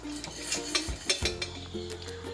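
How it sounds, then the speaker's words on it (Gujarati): Chickpeas roasting inside a pressure cooker, rattling and clinking as the cooker is shaken, a few quick metallic jostles in a short close burst. "હવે બે મિનિટ બાદ આપણે કુકરને આ રીતે વચ્ચે વચ્ચે ફલાવતા જશું"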